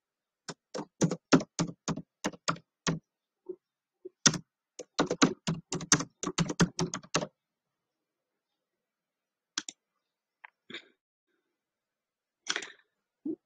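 Fingers type on a computer keyboard in quick clattering bursts of keystrokes, separated by pauses and a few isolated taps, close and clear in an otherwise silent room.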